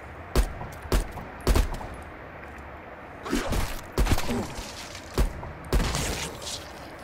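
Gunfire in Call of Duty Cold War Zombies: sharp single shots ring out in small groups, with a short burst in the middle, loud and close against a faint game background.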